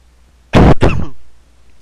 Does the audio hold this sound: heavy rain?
no